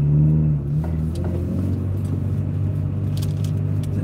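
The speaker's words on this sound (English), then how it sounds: "It does have this like valvey whoosh sound when you shift." A car engine with an HKS high-power exhaust hums and rumbles steadily up close, its pitch dropping as the revs fall on a gear shift with a soft valvey rushing whoosh, followed by steady idling rumble.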